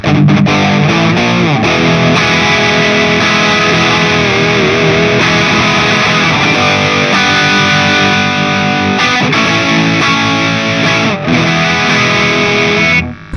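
Electric guitar played through a Valeton Coral amp modeler on its distorted Diesel amp model. A loud, saturated, continuous passage of sustained chords and notes plays alone throughout, with a brief dip near the end.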